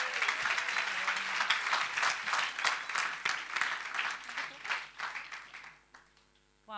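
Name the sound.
applause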